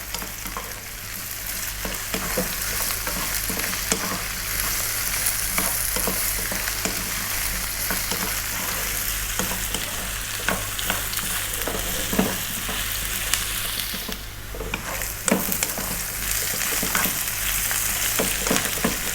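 Potatoes and onion fry steadily in a pan, a continuous close sizzle with frequent scraping stirs running through the whole stretch.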